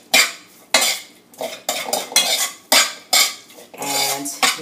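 A utensil clanks and scrapes repeatedly against a pot while beef is mixed with a drop of vinegar, roughly eight distinct metallic strokes in an uneven rhythm, close up with no talk.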